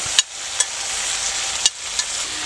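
Tomato frying in a pan with chili paste and ginger-garlic paste for a shahi chicken curry, a steady bright sizzle broken by a few sharp clicks of stirring, close and alone.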